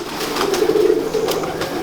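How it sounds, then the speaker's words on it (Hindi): A large pigeon on a rooftop gives a low, rolling coo, close and fairly loud against light background noise. "ये बड़ा कबूतर है"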